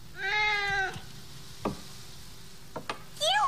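A cat gives one drawn-out, tonal meow, followed by a few short scuffs and clicks, then the start of another meow at the end.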